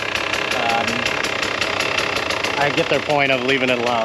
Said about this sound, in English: sounds like the idle's a touch low